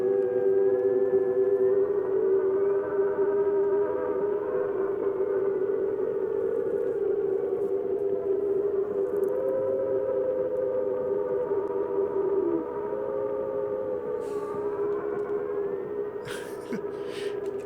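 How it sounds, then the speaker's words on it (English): A long, sustained electronic whine of microphone feedback in a sci-fi film, wavering tones that rise and fall steadily and loudly, with brief faint clicks near the end. "feedback's a bitch"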